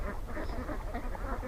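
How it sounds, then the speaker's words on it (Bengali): A flock on a duck farm beside a house keeps up a dense, continuous chorus of overlapping quacks, close and fairly loud. "দেখুন পর্যাপ্ত পরিমাণে হাঁস।"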